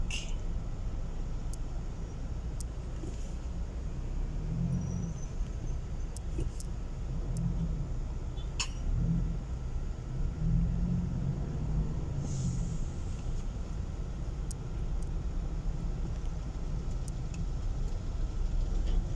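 Steady rumble of city road traffic in Quezon City, a continuous low drone of car and vehicle engines passing close by, with occasional faint higher noises and no talking.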